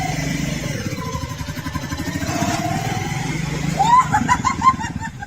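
A motorcycle engine fitted onto a tractor runs with a steady putter that grows louder toward the end, with faint voices and laughter in the background.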